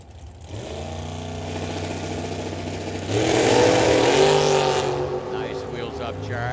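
Drag race cars launch down the strip at Firebird Motorsports Park, a steady engine drone swelling into a loud, roaring surge midway before easing off, with a commentator talking over the noise.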